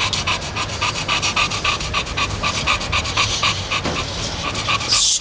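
A Boxer dog pants rapidly and steadily up close, quick rhythmic breaths continuing throughout with no talking.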